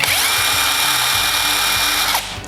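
A 21V cordless impact wrench whirs loudly at high speed for a couple of seconds, turning clockwise, then winds down.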